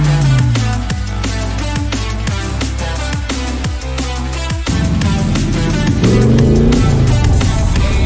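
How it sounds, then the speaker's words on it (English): A car engine in a driving video game hums loudly and continuously, with repeated gear-shift clicks and revving rises and drops, a badly handling car heard up close. "This is the worst car I've ever driven in my life."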